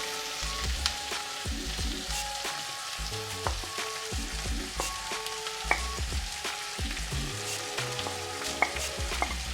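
Green beans stir-frying in a pan with garlic and chilies just added, a continuous close sizzle broken by scraping stir strokes and light clinks, with no talk.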